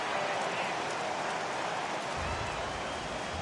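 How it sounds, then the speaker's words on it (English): Heavy rain pours steadily in a baseball video game, a dense even hiss of rainfall with a low rumble that swells in the last second. "This has got to be the hardest rain we've seen all afternoon."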